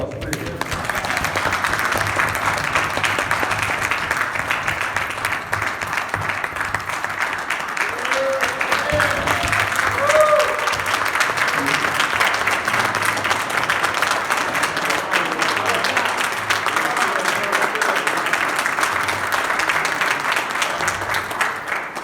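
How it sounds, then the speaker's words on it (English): A large crowd gives a long, steady round of applause for a group of young men at a Knights of Pythagoras gathering, dense clapping lasting the whole stretch with faint voices underneath. "These young brothers, another round of applause, please."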